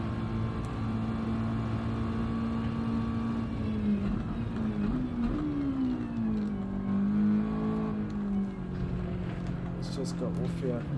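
A race car engine at Suzuka in a racing video game drones steadily for eleven seconds, its pitch rising and dipping through gear changes and corners, while someone talks over it throughout.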